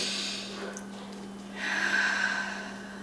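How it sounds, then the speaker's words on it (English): A single slow, deep breath drawn in through the nose and released with a soft airy rush during a quiet guided meditation, faint and close over a steady low hum. "Another nice deep breath."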